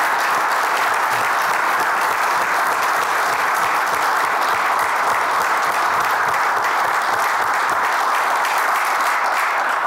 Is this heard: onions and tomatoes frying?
no